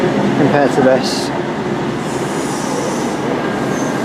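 Great Western Railway train at Reading station with a green power car on the front, a steady rumble of rail noise and faint wheel squeal filling the platform.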